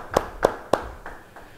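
Handclaps ring out at a church Bible study session, about five crisp, evenly paced claps that gradually fade, with no talk over them.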